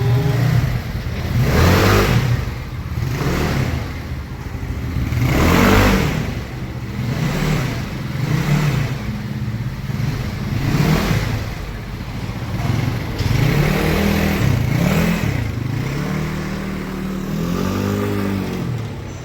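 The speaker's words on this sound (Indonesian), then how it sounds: "jadi ini udah nyala ya motornya ya" A Yamaha Mio motorcycle with a 132cc bore-up engine and an RVN camshaft revs close by in repeated rising bursts, the engine note climbing and falling again and again with no talk over it.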